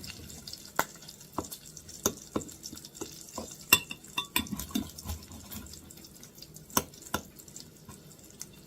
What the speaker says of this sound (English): Hear that bacon sizzling.